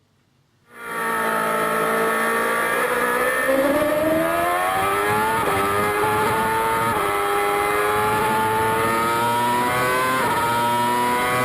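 Formula One race car engine heard onboard on the start-finish straight, a loud high-pitched scream rising steadily in pitch through several quick upshifts after a brief silent start.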